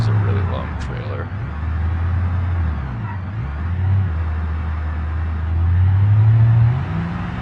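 A truck pulling a long trailer in the BeamNG driving game, its engine droning low and steady with rising and falling revs, continuous and fairly loud.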